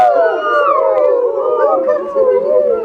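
An audience imitates a barred owl's call all at once, a crowd of overlapping human hoots and wavering howls sliding up and down, steady and fairly loud throughout.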